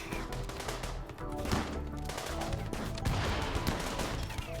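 Rapid bursts of gunfire crackle continuously over a dense, busy RimWorld game soundscape, with shots overlapping and no pauses throughout.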